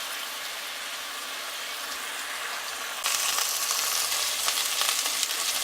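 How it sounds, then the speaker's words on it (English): Burgers seasoned with Cajun seasoning fry in a pan with a steady, close sizzle that grows louder and brighter partway through, with no talking. "we're going to let those fry up"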